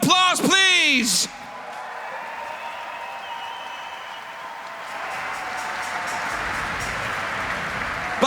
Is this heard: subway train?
no